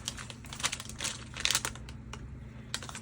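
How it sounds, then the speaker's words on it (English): Junk journal paper materials being folded up, giving close crinkling and rustling with quick papery taps and crackles over a low steady hum, busiest early on and then tapering. "So fold that up."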